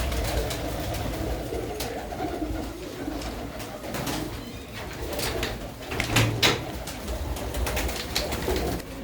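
Desi pigeons coo in a loft, a steady layered murmur of overlapping calls with rustling and a few sharper knocks, moderately near and continuous, no talk.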